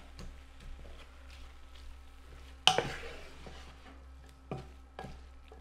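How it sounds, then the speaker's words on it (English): A spoon stirs pulled pork chili in a pot, with soft scraping and shuffling and one sharp clatter partway through, fairly quiet and close, without any talking. "We're gonna give that a little stir around."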